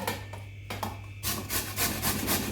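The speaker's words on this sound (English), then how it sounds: "I like to use this fine side of the grater because it gives me fine little strips at the end." Baby marrow is rubbed across the fine side of a hand grater in a series of quick, soft rasping strokes, close by and fairly quiet.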